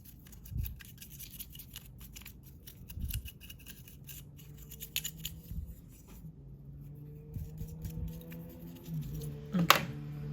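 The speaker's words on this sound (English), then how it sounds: "sometimes the back of your throat plate can be a little dusty, so I'm gonna go ahead and dust that too." A brush sweeps dust from the throat plate of a Singer Heavy Duty sewing machine in a run of soft, close, scratchy strokes, with faint knocks and small clicks between them and no talking.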